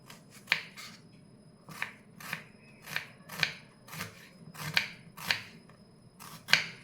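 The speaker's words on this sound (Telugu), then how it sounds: "వీటిని పొడుగా కట్ చేసేసుకుందాము" A knife slicing onions lengthwise on a cutting board, about a dozen crisp, evenly spaced cuts in a steady rhythm, close and clear with no talking.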